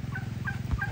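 Rhode Island Red chickens on a farm cluck and gobble in quick repeated bursts, close and fairly loud, a short busy run of bird calls with no voices.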